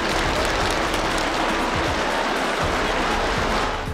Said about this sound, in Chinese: 现场掌声不断